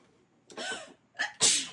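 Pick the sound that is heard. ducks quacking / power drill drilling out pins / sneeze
sneeze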